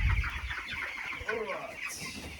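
Broiler chickens on a South African poultry farm cluck steadily in a close, busy chorus of overlapping calls for a couple of seconds, with no speech over them.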